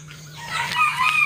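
Mixed-breed chickens being fed give a brief, close crowing call over soft clucking, a single rising, rasping cry lasting about a second.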